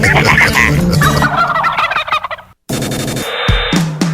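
Loud turkeys gobble in rapid rattling bursts, one call after another with a brief silent gap between.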